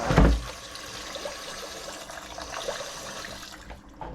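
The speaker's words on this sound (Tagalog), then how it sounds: "Lagyan ko na ng tubig" Water is poured into a pot. A heavy splash at the start gives way to a continuous soft trickle and gurgle that fades near the end.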